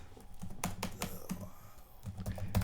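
Rapid typing on a computer keyboard, close and moderately loud, with a quick uneven stream of key clicks and taps continuing throughout.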